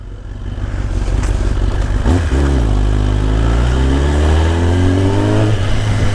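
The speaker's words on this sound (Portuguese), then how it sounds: "Agora sim eu tô escutando a minha moto" A motorcycle engine revs up hard through a loud, throaty exhaust with a link pipe and stock muffler tip, then holds a steady high rumble with a slight falling pitch, close and continuous.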